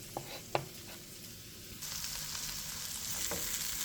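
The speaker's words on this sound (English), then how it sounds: "We're going to add it to the pot. That's our pimento berries. In with our ackee." Ackee and saltfish ingredients with pimento berries go into a pot, starting with a few clinks and light taps, then a frying sizzle swells and continues steadily.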